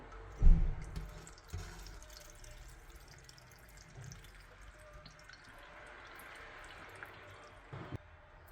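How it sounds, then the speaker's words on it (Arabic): Water is poured into a cooking pot over layered stuffed grape leaves, beginning with a sharp splash and settling into a soft, steady trickle with a few drips, close by and with no voices. "بنغطيهم بأي شيء وبنضيف عليهم المي، نغمرهم"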